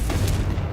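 A Confringo fire blast spell goes off in Hogwarts Legacy, a short, loud, booming burst with a rumbling low end and a brief crackling flare in the middle, heard alone.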